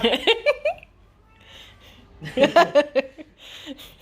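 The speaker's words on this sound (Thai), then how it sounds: "แมว" Cat meowing in a Thai home, a couple of short vocal cries amid bursts of nearby talk and laughter, with quieter gaps between them.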